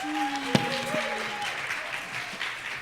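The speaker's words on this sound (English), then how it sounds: "Audience, give it up for Valerie and Kang." An audience at a live show breaks into applause, a dense burst of clapping that fades over a few seconds, with faint voices and a brief tone underneath.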